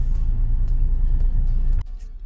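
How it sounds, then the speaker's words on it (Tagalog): Holiday road traffic in Tagaytay, a steady loud rumble of car and vehicle engines close by, continuous for about two seconds before the noise drops away abruptly near the end. "Ganito pag holiday sa Tagaytay. Traffic."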